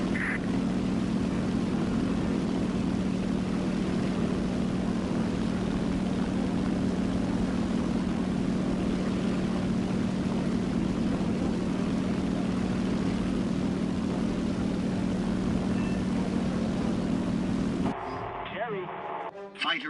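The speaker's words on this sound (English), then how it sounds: "Right now, you're controlling an attack aircraft." Attack aircraft engine in the War Thunder video game, a steady loud propeller drone running without a break for most of the stretch, then cutting abruptly to a brief quieter passage at the end.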